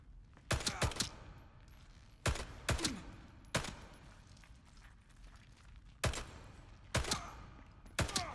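Bursts of gunfire from the video game Atomfall ring out in sharp, loud clusters of shots, several rapid volleys spaced across the stretch with quieter gaps between them.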